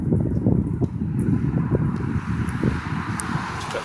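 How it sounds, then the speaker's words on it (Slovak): Wind buffets the microphone outdoors with a steady, loud rumbling roar that lasts throughout, marked by gusty bursts. "Troška fúka na mne teraz."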